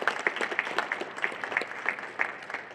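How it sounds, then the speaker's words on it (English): An audience applauds together, a steady dense patter of many hands clapping close by with no talking. "Please give yourselves a round of applause because you make it happen."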